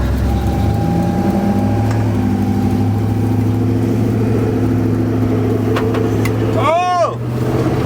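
A Honda CR-V converted into an El Camino-style shop truck cruises along in the morning with a steady, moderately loud engine drone and a brief high chirp near the end.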